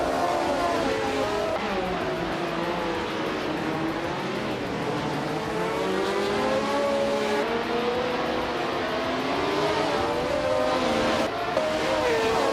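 Engines of racing cars, including a classic 1975 McLaren M23, roaring at the start of a video game race at the Kazan-ring, a steady high droning with shifting revving tones throughout.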